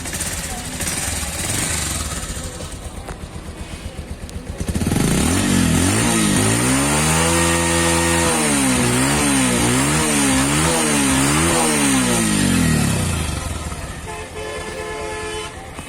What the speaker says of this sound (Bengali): ইঞ্জিনের সাউন্ড শুনতেছেন আসলে ইঞ্জিনের সাউন্ড একদম নতুন বাইকের মতোই আছে